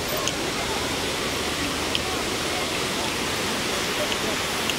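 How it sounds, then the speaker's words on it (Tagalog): Steady broadband rush of a waterfall at Puerto Galera, a continuous even roar of falling water that holds level throughout with no breaks. "Itong falls na to."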